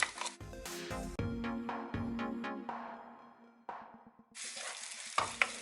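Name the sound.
onion and garlic frying in hot oil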